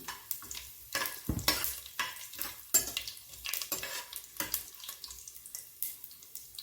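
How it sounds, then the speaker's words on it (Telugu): Whole garam masala spices sizzle and crackle in hot oil for a vegetable biryani, with irregular stirring scrapes and clinks against the pan; close, moderately quiet kitchen sounds without talk. "బిర్యానీకి కావలసిన హోల్ గరం మసాలా వేయించుకుంటున్నాం"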